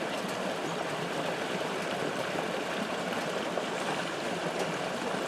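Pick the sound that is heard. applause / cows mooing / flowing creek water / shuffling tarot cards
flowing creek water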